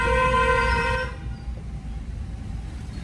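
A car horn honks once, loud and steady for about a second on a narrow single road, then cuts off, leaving the low hum of the moving vehicle and road noise.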